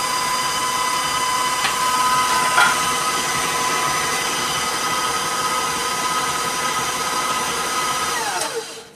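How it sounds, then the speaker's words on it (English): A heavy-duty stand mixer beats cake batter for a pineapple upside-down cake at speed 4, a continuous close motor whine and whir holding steady throughout before it winds down at the end. "My mixer is a heavy duty mixer, so I increase my speed right now to 4, and I'm going to beat until the batter is smooth."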